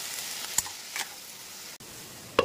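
Cauliflower, capsicum, potato and onion fry together in a pan, a low steady sizzle punctuated by a few quick stirring scrapes and a sharp clink near the end.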